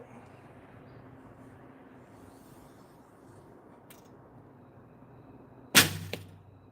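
Recurve bow fired at practice, one sharp, loud string release and arrow shot cracking out after several seconds of quiet room tone, with a short ringing tail.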